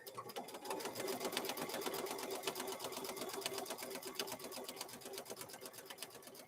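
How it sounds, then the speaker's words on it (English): A sewing machine stitches a straight line across fabric for a microwave bowl koozie, running steadily and alone, with rapid even needle ticks at a close, moderate level. "So let's go ahead and stitch across here."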